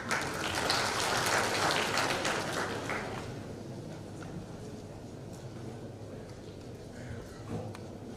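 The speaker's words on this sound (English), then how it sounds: "Please have a huge round of applause." Audience applause at an international conference on knowledge-based textiles, a dense burst of clapping for the first few seconds that thins out and fades to scattered claps and room noise.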